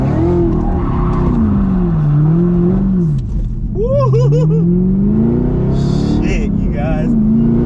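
A tuned Camaro ZL1 is driven hard, its engine loud and close, revs climbing and dropping in repeated sweeps with sharp bursts in between.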